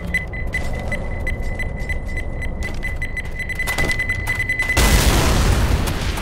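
A bomb goes off in Left 4 Dead 2, a loud broadband blast near the end, preceded by a steady high beeping tone and rattling, mechanical game sounds.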